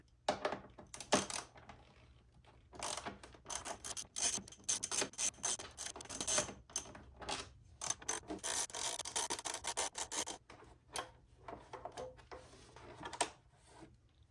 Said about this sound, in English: take a 5mm Allen key or socket and start by removing these 2 bolts